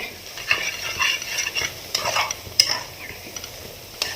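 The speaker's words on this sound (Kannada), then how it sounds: "ಇದು ಮಸಾಲೆ ಸ್ವಲ್ಪ ಫ್ರೈ ಆಗಿದೆ" Masala with coriander powder frying for fish head sambar while a spoon stirs it in the pan: a quiet sizzle under repeated scraping and tapping strokes.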